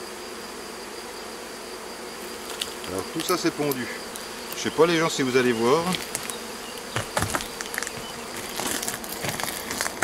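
Honeybees buzz steadily inside a hornet nest box, a dense insect hum running throughout with a few louder close passes, while someone talks over it.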